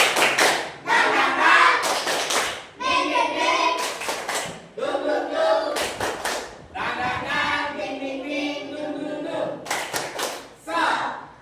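A school class claps together in short, rhythmic bursts of sharp hand claps, alternating with group chanting voices between the clap patterns, close and lively throughout.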